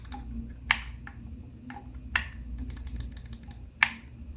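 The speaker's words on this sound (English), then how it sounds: "It modifies the triggers from a linear trigger to a digital clicky trigger." Digital clicky triggers on a Hex Phantom custom DualSense game controller, three sharp close clicks spread over a few seconds with softer taps in between, over a faint low room hum and no talking.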